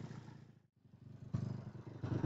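A motorcycle with a 196cc balance crank engine runs close by on a test drive, its steady pulsing idle dipping briefly to near silence before surging louder in rhythmic throbbing revs.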